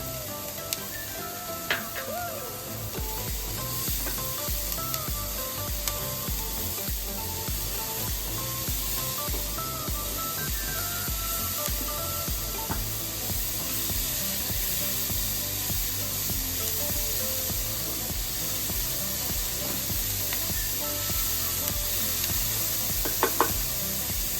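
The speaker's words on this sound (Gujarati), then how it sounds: "એને પણ સરસ સાતરી લેશું આપણે એક કેપ્સિકમ છે એ એડ કરીશું" Capsicum and potatoes sauté in a pan for Mumbai-style spicy masala pav, giving a steady, close sizzle and hiss throughout with occasional light knocks and stirring, no talk over it.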